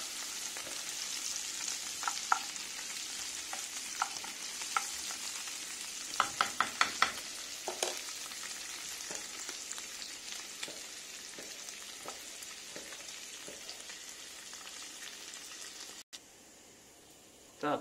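Pork fat sizzles and crackles steadily in a hot pan, rendering into cracklings, with occasional sharper pops and a few scraping stirs, no talking.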